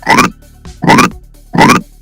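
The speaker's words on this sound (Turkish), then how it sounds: "Bu sesi alacağız. Şu krok sesi." Three short, loud croaking grunts spaced evenly about a second apart, each a rough rasping burst heard close up with quiet gaps between.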